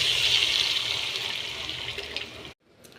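Water pours steadily into a pan of potato curry in a home kitchen, a continuous splashing stream that stops abruptly near the end.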